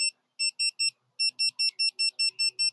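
A laser level receiver beeps at an above-ground pool build site: a few sharp high electronic beeps, a pause, then a fast regular run of about ten more, loud and close with faint background noise underneath.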